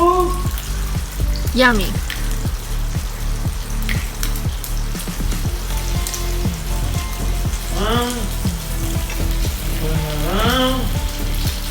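Bacon sizzling steadily as it fries in a pan, a loud continuous crackle with scattered pops, while a person speaks briefly over it.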